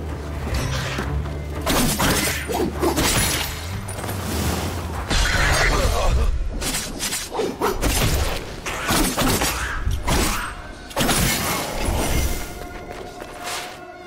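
Crystals shattering in Prince of Persia: The Lost Crown, a run of loud glassy smashes and crashes with whooshing swings and thuds, repeated in bursts across several seconds of busy game action, no voice.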